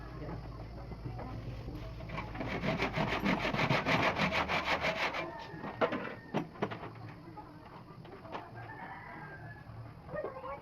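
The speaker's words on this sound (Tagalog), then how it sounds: "ilagari naman natin siya sa gitna para mailagay na natin ang talim ng lagari" A hand saw rasps through wood in quick, steady strokes, then slows to scattered scrapes; a rooster crows faintly in the background.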